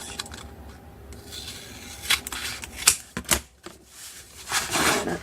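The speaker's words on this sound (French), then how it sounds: "Là, je vais couper un peu." Scissors snip through paper for a Christmas photo album craft, a series of close, crisp cutting clicks and rustles in quick irregular bursts, with no talk.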